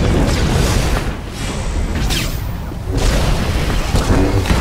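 Explosions in the video game Star Wars: The Old Republic (SWTOR) boom in a loud, dense rumble that swells and dips in a few waves over several seconds, with no voices.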